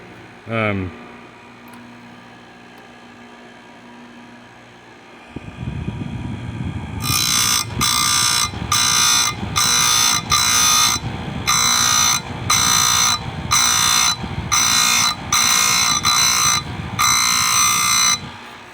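A Stihl USG chain grinder with a CBN wheel runs with a low hum, then grinds chain teeth in a regular series of short, loud, harsh bursts separated by brief pauses.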